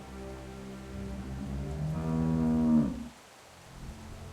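A cow in The Walking Dead video game lets out a single long, drawn-out moo that swells and then cuts off, fairly close, with faint background ambience after.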